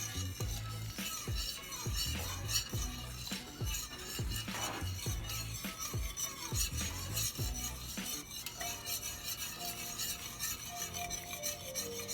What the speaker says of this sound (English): You can use whatever hot sauce you like, but this is my favorite. And we just whisk it together.